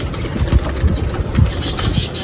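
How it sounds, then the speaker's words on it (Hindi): Several bursts of fluttering wing flaps as pigeons take off, over a steady engine hum in the background. "हमारे पिजन जो छत पे बैठे थे अकबर ने सबको उड़ा दिए"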